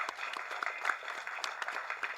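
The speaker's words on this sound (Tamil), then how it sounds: "ஒரு கைத்தட்டல் கொடுக்கலாமே." Audience applause at a Tamil film audio launch event, a steady wash of many hands clapping at moderate distance, continuous and fairly soft throughout with no voices over it.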